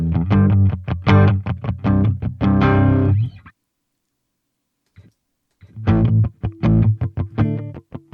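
An electric guitar driven through FabFilter Saturn multi-band distortion plays chopped, heavily saturated chords and notes, stopping for about two seconds of silence before more gritty, buzzing strums return.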